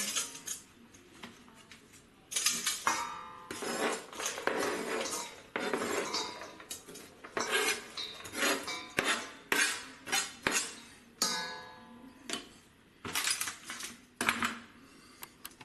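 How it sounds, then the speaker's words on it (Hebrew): Chopped celery leaves, cranberries and nuts for a celery salad are dropped and tipped into a bowl, giving a run of sharp clattering knocks and clinks in an irregular rhythm, close and fairly loud, with no talking. "נכניס את כולם לתוך הקערה"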